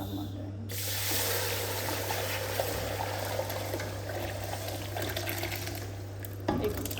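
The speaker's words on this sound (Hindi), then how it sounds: "तो अब इसमें मैं डालूँगी पानी" Water poured into frying semolina halwa in a pan, a steady hissing sizzle and splash lasting several seconds, with a hum underneath.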